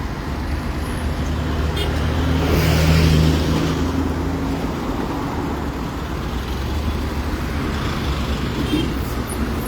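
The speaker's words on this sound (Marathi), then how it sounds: "हे पळय ह्या फूल ट्रॅफिक जॅम जाल्लो आसा." A dense, steady roar of stalled traffic on the Panaji-Porvorim road near the Atal Setu bridge in Goa, idling engines and tyre rumble blending into a loud continuous wash with a faint high whine above.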